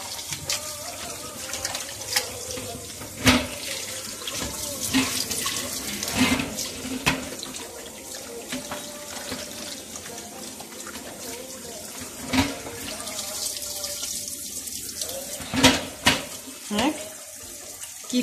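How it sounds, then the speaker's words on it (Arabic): Raw chicken is washed under a running kitchen tap, water splashing and trickling steadily with occasional louder knocks and handling sounds, while someone talks through it. "نشلو الأول. الدجاج ياخد وقت باش تنظفو مليح"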